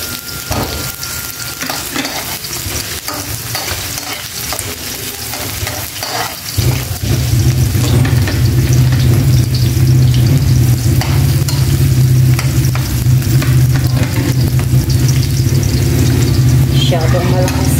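Garlic and onion frying in a pan while cooking ginataang monggo, a loud steady sizzle that swells sharply partway through as more goes in, with stirring clatter and talking over it.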